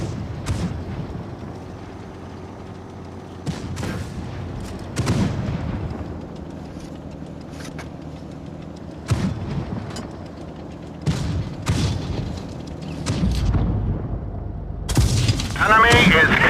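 Tank cannon shots boom repeatedly in World of Tanks battle, several loud blasts with rumbling tails spaced a few seconds apart, mixed with game effects and someone talking over them.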